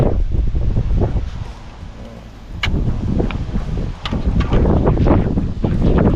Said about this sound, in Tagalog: Ramdam na yung hangin.